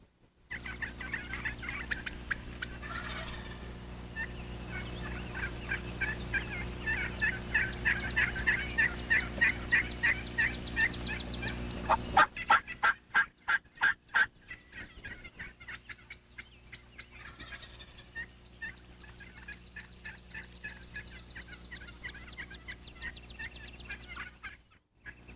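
Wild turkey gobblers gobbling in the field, many birds calling repeatedly in overlapping rattling gobbles at moderate distance, with a louder burst midway over a steady background hum.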